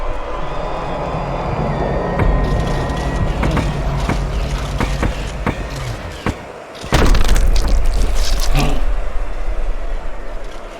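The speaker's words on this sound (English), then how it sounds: "Oh, a big shot comes home for him. He goes down." Punches land with heavy thuds in a Fight Night Champion boxing bout between Muhammad Ali and Tommy Morrison, ending in a knockdown; a loud crowd roar swells near the end over steady arena noise.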